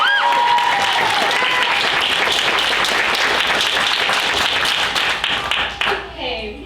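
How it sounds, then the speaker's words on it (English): Loud sustained applause from a crowd at a school evening show, thick clapping that fills the room and fades near the end, with voices rising faintly beneath it. "Everybody, round of applause."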